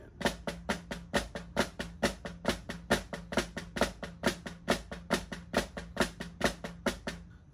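A drum plays continuous flam taps as eighth notes, a long run of about thirty even, crisp strokes in a steady brisk rhythm, close and clear with no talking.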